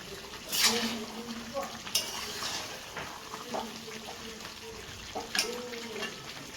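Duck meat sautéing and being stirred in a pan as its released juices cook down, with soft sizzling, scattered utensil scrapes and a few sharper clinks against the pan, close by.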